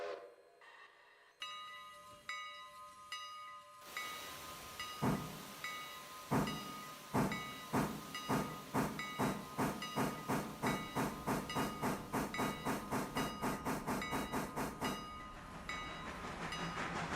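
A steam locomotive in the train game Railroader starts off with a hiss, then settles into rhythmic chuffing that grows steadily faster and more regular, with a steady rumble underneath and no talking.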